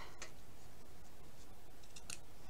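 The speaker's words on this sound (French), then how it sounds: "Et là, on coupe." Scissors snipping through material while a place marker is finished in a criss-cross pattern, two or three crisp close cuts standing out over a low background hiss.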